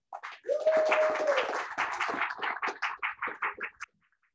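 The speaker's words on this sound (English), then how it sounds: "Give a round of applause for Linda" A small audience at a reading series applauds as a new reader comes to the stage, a brief whoop over steady close clapping that slows into separate claps and then silence.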